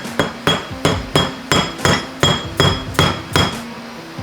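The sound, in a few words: pressing a transmission seal in using a 5th gear nut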